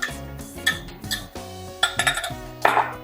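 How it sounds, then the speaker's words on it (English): Wet batter being mixed into dry ingredients for fruit muffins in a bowl, with utensil clinks against the dish and soft scraping in uneven bursts, close and moderately loud, no talking. "we're gonna add the wet mixture to the dry mixture"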